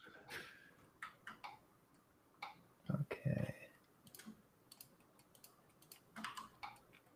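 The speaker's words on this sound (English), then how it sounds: "I hear lots of clicking." Computer keyboard and mouse clicking during 3D modeling, heard as scattered faint clicks and short bursts with a louder cluster midway, fairly quiet overall.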